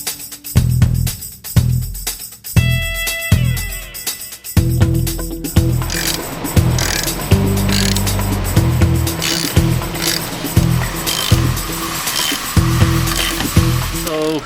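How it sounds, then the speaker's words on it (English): Ratchet wrench tightening the bolts of a flag pole bracket on a Jeep Wrangler, giving repeated bursts of fast, close mechanical clicking with short pauses between strokes, loud and alone. "we're gonna screw them on by hand and then tighten them up with the ratchet wrench"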